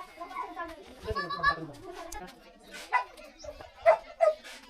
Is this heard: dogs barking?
yes